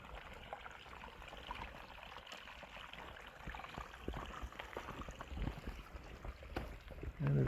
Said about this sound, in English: it's right beside this little babbling brook